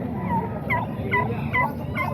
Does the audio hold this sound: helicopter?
no